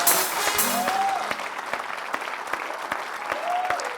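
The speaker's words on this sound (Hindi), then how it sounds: "जोरदार तालियों के साथ" A seated audience breaks into loud, sustained applause to welcome Hindi poet Kunwar Bechain onto the stage at a Teachers' Day event, with a full wash of clapping and a few faint whistles.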